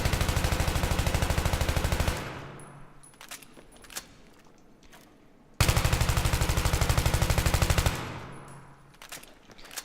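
A full magazine is dumped from an automatic weapon in Battlefield 3: two loud, rapid, even bursts of about two seconds each, separated by a quieter pause with faint metallic clinks and ticks.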